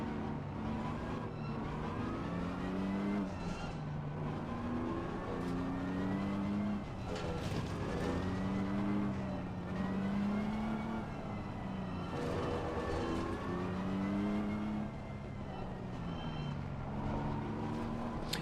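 Race cars howl around Imola in the racing game Assetto Corsa Competizione, engines rising and falling through gear changes, several cars close together in steady continuous droning.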